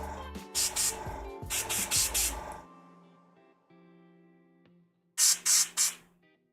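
Short bursts of airbrush spray misting paint onto a Warhammer 40k Avatar of Khaine miniature, two clusters of quick hissing pulses, then a pause, then three more sharp close bursts, loud against a quiet room with faint tonal hum between.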